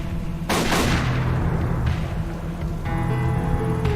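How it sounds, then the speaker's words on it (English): A gunshot blasting a lock off in the game Tokyo Dark, a loud sharp bang with a rolling tail over steady background music and ambience. "I guess we're just gonna shoot the lock off"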